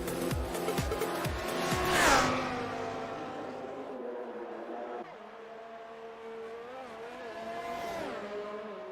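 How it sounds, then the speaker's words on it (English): A race car oversteering and spinning out in an Xbox racing game at a Mexico track, with loud engine revving, a sharp tire squeal, then a steady engine drone as the car recovers. "Oh, and he's oversteered, and he's spun."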